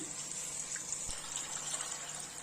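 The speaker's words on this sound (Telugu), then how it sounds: "మీడియం సైజ్ గ్లాస్తో వాటర్ పోస్తున్నాను" Water pours from a medium-sized glass in a soft continuous stream into a pot, a gentle gurgling splash at moderate volume with no talking.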